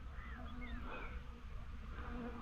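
Angry bees swarm in a dense, continuous buzz, with several individual insects whining close past over a steady low hum of the colony, and no voices.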